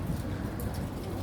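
Rain falls in one spot in an alley, a steady dense patter on the ground, close and even throughout with no voices.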